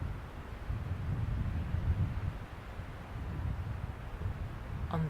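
Wind moves through snow-covered trees in a low, buffeting rumble that rises and falls in gusts, with a faint rustle on top and no voices.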